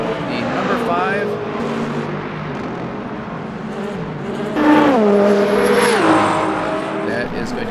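Penske Porsche race cars in the Le Mans Ultimate 24 Hours of Le Mans racing game roar past, engines rising and shifting pitch, one loud pass near the end, under continuous commentary.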